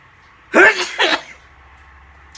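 Sneeze right after a nasal swab for a home COVID test, one sharp loud burst followed by a second smaller spasm, close to the mic with faint background hum.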